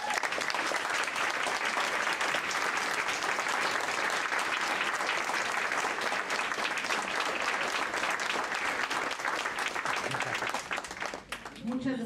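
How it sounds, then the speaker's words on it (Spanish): Applause from the audience at a regional human rights forum welcomes the trans community, a long, thick wash of clapping from many hands that stays strong for around eleven seconds before easing, with a brief sound at the very end. "les vamos a dar un aplauso de bienvenida"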